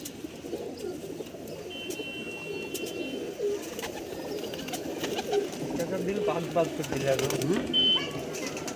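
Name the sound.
foreign breed pigeons cooing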